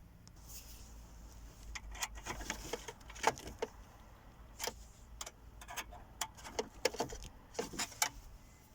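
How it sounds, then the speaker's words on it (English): Metal tabs bent and a Pioneer DEH S420BT car radio clicked into its dash mounting, heard as a scatter of sharp, close clicks and small metallic snaps in a quiet car interior. "Just going to bend some tabs up on this all the way around so it stays in place, and we'll click the radio in"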